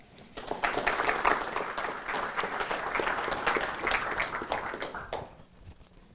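Audience applause welcoming speaker Samantha Gross at an evening energy geopolitics talk, a steady crowd clapping that holds for about five seconds before fading out.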